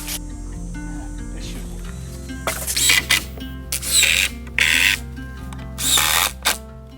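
A power drill drives screws into wooden boards while a rack is assembled in an off-grid cabin workshop: several loud, separate whirring bursts of one to two seconds each over a steady low hum, fairly close.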